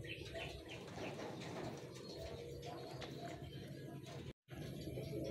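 Racing pigeons gather at a loft during training for a pooling race in Bulacan, cooing steadily in a dense, continuous flock murmur with faint chirps, close and fairly loud, with one abrupt brief dropout near the end.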